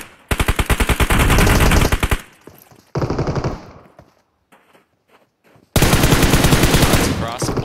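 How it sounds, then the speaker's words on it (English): Rapid automatic gunfire in the PUBG Mobile video game during a competitive scrim, loud close bursts of rattling shots separated by short quiet gaps, with a longer burst at the end. "Shots fired."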